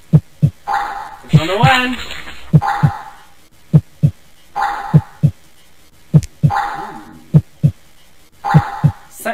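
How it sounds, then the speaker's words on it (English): Heavy heartbeat effect from the horror game The House, thumping steadily in close double beats with a low rumbling hum behind, and a voice speaks briefly over it. "The heartbeat means something's gonna pop."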